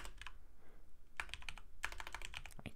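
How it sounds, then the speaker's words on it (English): Rapid bursts of typing on a computer keyboard while writing a Markdown document, with close clattering key clicks in two dense clusters separated by short pauses. "I can't type today."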